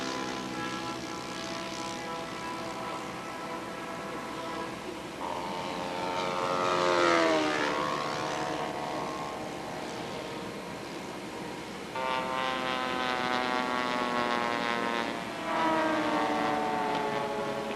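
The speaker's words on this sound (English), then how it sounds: "This, of course, the turbo engine version of the T-34" A turbine-engined T-34 model airplane flies past, its engine whine sweeping up and down in pitch as it approaches and recedes, steady and moderately loud throughout with no talking.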